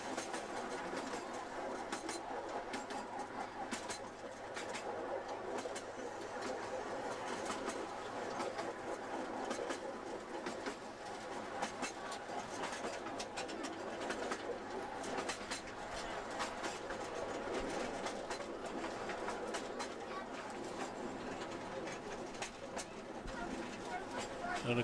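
A steam train runs on the Cleethorpes Coastal Light Railway, giving a steady rolling rumble and rhythmic clickety-clack of carriages heard close and continuous throughout, with voices talking over it.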